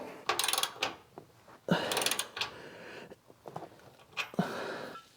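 Ratchet with a deep well socket tightening bolts, a series of sharp rapid clicking bursts in short separated strokes, close and moderately loud with brief pauses between.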